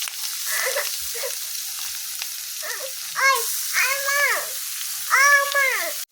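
Papaya pieces frying and sizzling in a pan for a vegetarian papaya ghonto, with a steady hiss broken by several louder bursts of crackle as the pieces are added and stirred.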